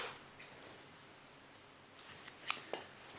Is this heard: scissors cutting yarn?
yes